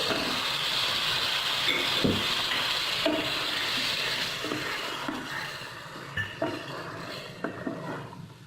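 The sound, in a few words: masala and fried chicken frying in a pan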